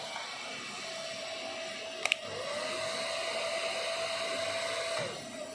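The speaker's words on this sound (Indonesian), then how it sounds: "Kemudian saya tambahi hair dryer ini" A hair dryer switched on as a load on a home backup power panel gives a steady whooshing whine with a sustained tone, with a couple of sharp clicks before it settles and then cuts off near the end, no voices.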